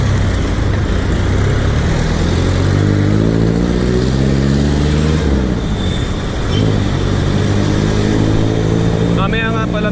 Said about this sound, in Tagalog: maraming mga sumisingit na mga sasakyan dito, lalong-lalo na yung mga motor